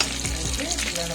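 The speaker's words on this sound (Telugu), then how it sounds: "ఆవాలు వేయాక కరివేపాకు వేయాలి." Curry leaves hitting hot oil after mustard seeds for an Indian ginger chutney tempering, a loud close sizzle and spatter that holds steady for the whole short moment.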